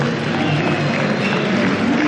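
Steady applause from a large esports crowd at a League of Legends tournament fills the space, a dense unbroken wash of clapping and cheering.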